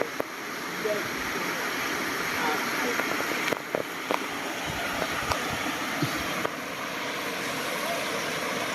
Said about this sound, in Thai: นี่เป็นน้ำไหลใหม่นะครับวันนี้